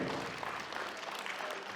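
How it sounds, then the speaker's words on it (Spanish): Wedding guests at a reception hall in Punta Hermosa applaud the newlyweds with soft, continuous clapping that sounds faint and somewhat distant. "Los aplausos para los recién casados"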